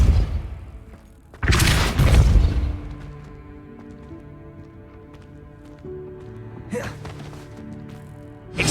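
Repulsor spell cast in Hogwarts Legacy: a loud, booming whoosh-thump burst early on, followed by a low sustained tonal hum and a second, smaller burst later.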